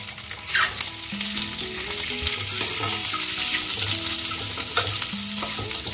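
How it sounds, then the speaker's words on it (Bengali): Eggs fry lightly in ghee in a hot kadai, with a steady close sizzle and occasional stirring scrapes running the whole time beneath background music. "দিয়ে দেবো ঘি। ডিমগুলো হালকা করে ভেজে নেব।"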